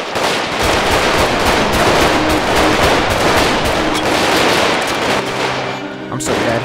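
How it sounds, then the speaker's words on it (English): Dense, continuous automatic gunfire from GTA 5 rattles loudly for nearly seven seconds, rapid shots overlapping into a sustained barrage with no pause. "I'm going to shoot at the cops."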